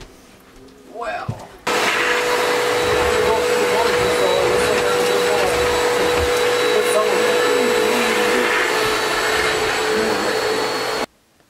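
A vacuum cleaner switches on after a brief muffled start, then runs with a loud steady whine and hum for about nine seconds before cutting off abruptly.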